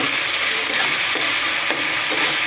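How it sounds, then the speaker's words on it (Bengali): Chopped garlic with salt sizzles steadily in a hot pan, a close, even frying hiss broken by a few soft stirring scrapes, with no voices. "একটু ভাজা ভাজা করে নিই।"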